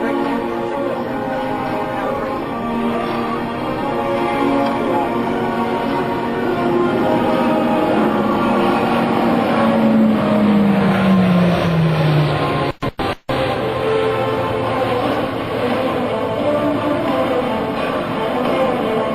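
E-2C Hawkeye turboprop flying past at an airshow, a loud sustained propeller drone with a descending pitch as it passes, under crowd and announcer noise with a brief dropout partway through.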